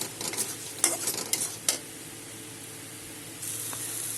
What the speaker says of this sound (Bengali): সব একসাথে এখন আমি কষিয়ে নেব।